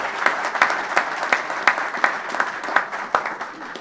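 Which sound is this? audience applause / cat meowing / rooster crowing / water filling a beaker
audience applause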